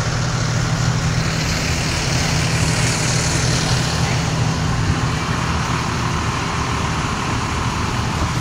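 A 2010 Thomas C2 handicap school bus with a Mercedes MBE 926 diesel idles steadily nearby outdoors, a constant low engine drone and clatter with faint traffic-like hiss throughout.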